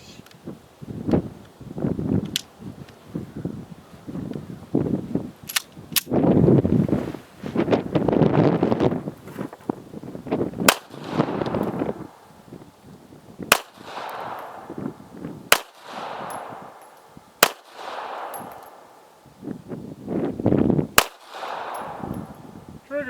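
Shots from a Taurus Spectrum pistol at an outdoor shooting range crack out one at a time, sharp and loud, spaced irregularly over wind noise and rustling.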